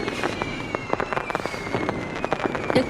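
Fireworks bursting in rapid, irregular crackles and pops at moderate loudness, a dense scatter of sharp explosions with a faint sustained tone running underneath.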